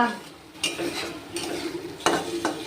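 Spice paste with onion and ginger being stirred and sautéed in a pan for katla fish, a soft sizzle broken by sharp spatula scrapes at intervals, close and alone.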